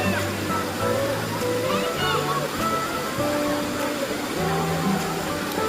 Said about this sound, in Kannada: ಕಾಂತಾಪುರ ಫಾಲ್ಸ್ ಈ ಥರ ಇದೆ.